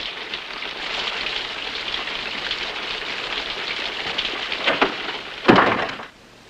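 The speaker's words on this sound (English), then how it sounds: "You don't mean to ride in this rain." Rain pours steadily in a scene from a 1950 Western film, a dense continuous hiss on surfaces, building briefly before a sharp crash and then a sudden drop to quiet.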